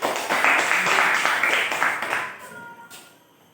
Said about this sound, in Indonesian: Kasih aplaus untuk Satilia Afidah